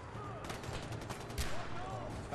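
Gunfire in Far Cry 4 with a few quick rifle shots and a heavier blast, moderately loud within busy game ambience and a talking voice.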